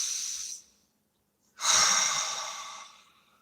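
A person breathes deeply and close by: a long airy exhale fades out, a pause of silence follows, then a strong noisy breath swells and slowly trails away, with no talking.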